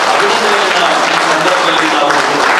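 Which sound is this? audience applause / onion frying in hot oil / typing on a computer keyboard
audience applause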